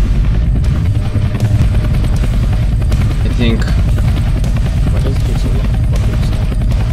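Helicopter in the Roblox game Entry Point, a steady low rotor drone filling the whole stretch at close range, with people talking over it.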